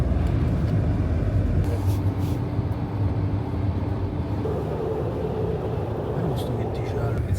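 A car drives along a road toward a snowstorm, giving a steady, loud low rumble of engine and tire noise that holds unbroken for the whole stretch.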